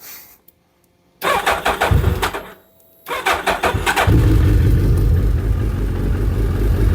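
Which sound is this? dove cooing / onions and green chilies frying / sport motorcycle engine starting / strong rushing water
sport motorcycle engine starting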